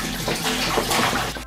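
Water pours steadily into a large pot on a stove to make a water bath for melting chocolate. It is a brief, continuous rushing splash, close and loud.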